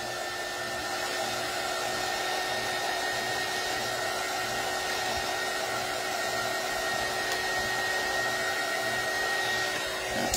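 A dryer blows steadily and loudly to fast-dry a freshly painted reusable sign, a constant close whooshing roar with a faint tonal whine and no speech.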